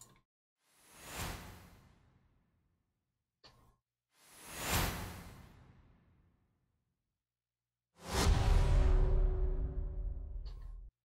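Three rising whooshing swells, each building quickly then trailing off, the last one louder, fuller and longer with a heavy low-end rush.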